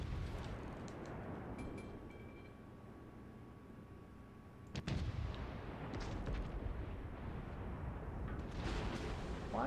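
Naval gunfire from enemy warships in World of Warships Legends, a deep booming artillery blast landing sharply after a quieter stretch, followed by rumbling impacts and more distant thuds, set against low engine drone.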